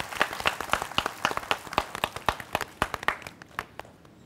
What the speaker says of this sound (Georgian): გავაცილოთ აპლოდისმენტები ბატონი ვასილ გამოქვაბული